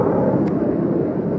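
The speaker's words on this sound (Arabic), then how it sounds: "قصف في طائرات المي." Aerial bombardment by aircraft over Douma, Syria, heard as a loud, dense, continuous roar that fills the short stretch without letup and without any voices.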